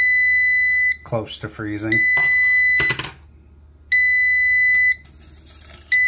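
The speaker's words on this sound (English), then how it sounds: "there's the alarm going off" A Govee WiFi meat thermometer alarm sounds in repeated bursts of high, steady beeping about a second long, loud and near, with someone talking between the bursts.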